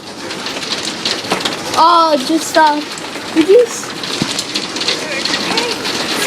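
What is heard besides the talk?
hailstorm hitting the ground in Ottawa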